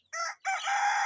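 A short, fairly faint burst of chicken calls close by, a quick squawk followed by a longer crowing cry.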